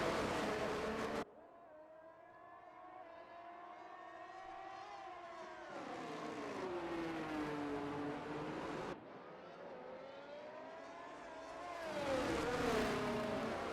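Video-game F1 23 race cars scream past on the Azerbaijan circuit, engines rising and falling through gear changes in loud sustained howls, with abrupt shifts where the view cuts between cars.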